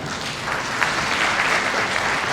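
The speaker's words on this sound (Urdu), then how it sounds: "آپ سب کی بھرپور تالیوں میں" An audience at a prize distribution ceremony for top board-exam students at a science college in Wah Cantt claps steadily in dense, sustained applause throughout.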